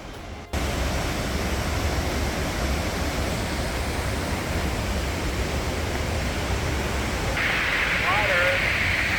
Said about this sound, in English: Oh, I hear lots of water.